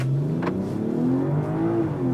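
A 2023 BMW M340i launches hard with launch control engaged on summer tires in sub-zero cold, its engine note sweeping upward in a loud, smooth rising drone heard from inside the cabin.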